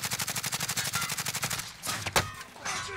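Rapid automatic gunfire in Call of Duty Warzone, a fast steady burst of shots for over a second, then scattered louder single shots and impacts close by.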